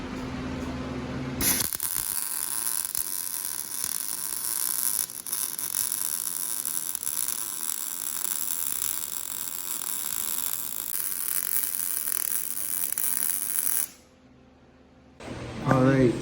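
MIG welding on a brake caliper bracket for an off-road drag build, a steady loud crackling hiss lasting about twelve seconds, then a brief pause before a short second burst starts.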